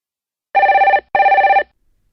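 A telephone rings at a car rental office in two loud, close double-pulsed bursts separated by a short pause, with no voices over it.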